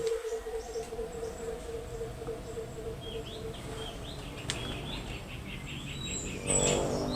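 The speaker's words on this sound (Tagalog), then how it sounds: "Di ba maririnig mo yung huni ng mga ibon?" Faint bird chirps and tweets repeat in the distance over a steady hum of insects and background noise at an abandoned resort in Cebu, Philippines, with no talking.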